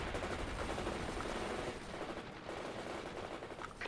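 Dense gunfire from enemy units in the World in Conflict combat game: sustained rattling bursts and crackling shots merge into a continuous loud barrage with a heavy low rumble underneath, with no voices.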